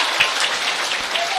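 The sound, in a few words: audience applause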